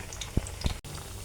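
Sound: carrot pitha frying in oil

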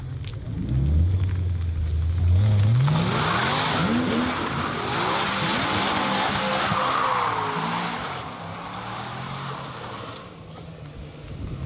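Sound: cars accelerating out of a car event

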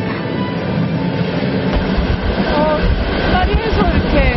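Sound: Trans-Siberian railway train running

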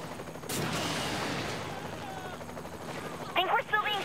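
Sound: gunfire from video game Saints Row: The Third

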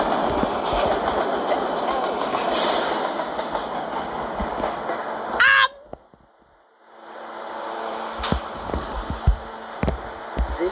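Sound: subway train in a video game

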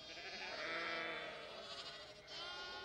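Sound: lambs bleating on a farm

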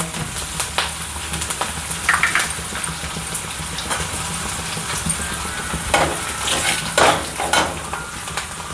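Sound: asafoetida and curry leaves sizzling in hot oil

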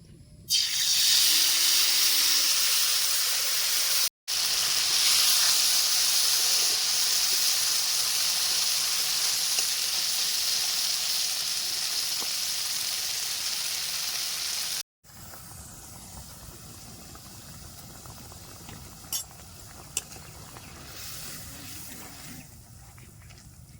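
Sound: small fish frying in hot oil

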